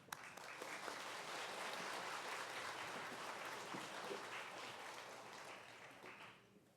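Broad applause from a church congregation at a Sunday worship service welcoming a preacher to the pulpit, a steady dense wash of clapping that holds for several seconds and then tapers off.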